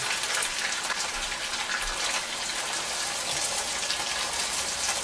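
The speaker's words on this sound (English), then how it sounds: "go ahead and put the pinto beans in. Be careful not to get splashed." Pinto beans hitting hot oil in a pan for refried beans, a loud steady hiss and sizzle of frying filling the whole span, close by with no talking.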